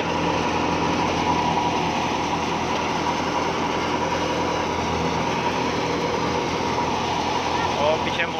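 A wheat thresher runs steadily with grain pouring out, its engine roar a dense, unbroken drone at constant loudness, with someone speaking over the machinery.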